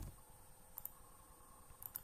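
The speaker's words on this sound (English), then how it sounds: "simply typing in sudo apt get install nvidia-current" Computer keyboard being typed on in a Linux terminal on Ubuntu 14.10 while entering an Nvidia driver install command: a few faint, quiet key clicks in two small clusters over low background hiss.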